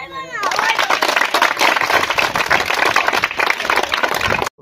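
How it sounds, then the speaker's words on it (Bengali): A crowd claps loudly and steadily at a Bonpara municipal club football distribution event, dense applause running almost the whole time before stopping abruptly. "সবাই জোরে হাততালি।"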